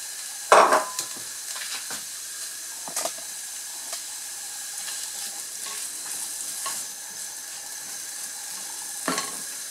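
Cuban sofrito for arroz congrí sizzles steadily in a pot with a constant hiss, punctuated by a few sharp scrapes and clacks of stirring, close and with no voices.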